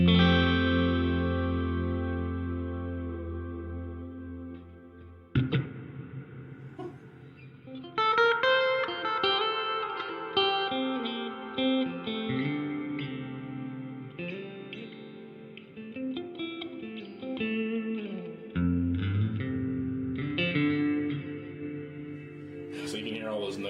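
A Donner delay and reverb pedal with its settings turned all the way up, guitar notes ringing into long, dense repeats and a wide washy tail that hangs and overlaps, steady and loud throughout with no talking.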